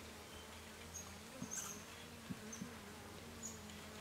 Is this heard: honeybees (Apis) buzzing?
yes